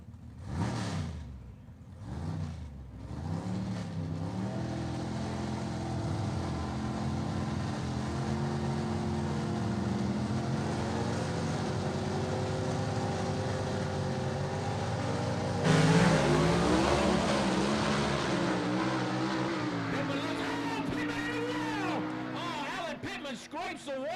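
Gasser drag race car at Gulfport Dragway in a Southeast Gassers Association race, a sustained roaring engine accelerating down the strip through gear changes, loud and continuous under a commentator's voice.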